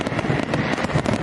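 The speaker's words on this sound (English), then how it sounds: "here are the new fireworks. Check these out." A brief burst of fireworks crackles and pops in a rapid, dense string of close, loud bangs with no talk.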